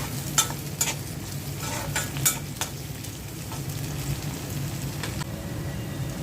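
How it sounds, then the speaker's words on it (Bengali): Onion, garlic and green chilli frying in hot oil in a home kitchen pan, a steady low sizzle running throughout with a few sharp clicks of stirring, no voices. "তেল দিয়ে দিচ্ছি, পেঁয়াজ কুচি দিয়ে দিচ্ছি রসুন কুচি দিয়ে দিচ্ছি, কাঁচামরিচ"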